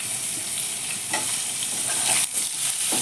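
Cut potatoes fry in hot oil in a pan with a bay leaf, giving a loud, continuous close sizzle with some stirring movement and no talk.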